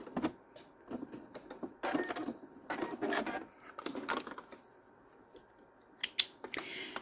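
Sewing machine back tacking at a shortened stitch length on small scrap-fabric key fobs, heard as short bursts of needle chatter separated by pauses and a few light clicks, close and fairly quiet.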